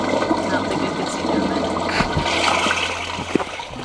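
Water rushes and gurgles loudly through newly built plumbing in an off-grid cabin, a continuous close flow with splashing bursts and a faint voice in the background.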